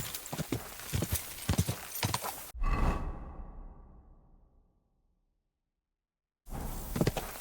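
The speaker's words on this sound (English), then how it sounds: "I don't know what our horse got stuck in." Horse hooves clip-clop in the video game Kingdom Come: Deliverance II, a dense rapid clatter that breaks into a whooshing rush fading to silence before the hoofbeats return.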